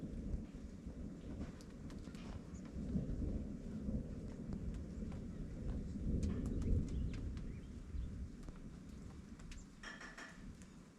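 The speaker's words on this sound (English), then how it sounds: "That was some pretty good thunder." Low, rolling thunder rumbles steadily under a wet rain hiss, with the rumble swelling in the middle. Brief faint chirps and drips sound over the top, and no one speaks.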